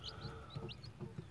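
Newly hatched chicks peep in short, high, repeated chirps, faint and close, with low background rumble.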